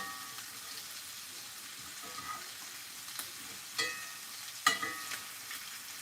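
Roux of flour, oil and a little butter frying in a pan, a steady soft sizzle with several scraping stir strokes building toward the end, close and moderately quiet with no talking.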